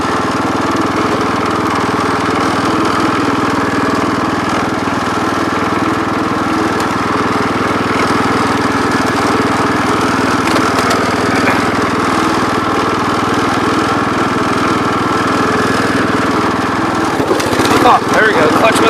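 A 1973 John Deere 110 lawn tractor engine runs steadily in fourth gear with a loud, close, continuous drone that stays even throughout, ending in a short rattle. A voice is heard over the engine.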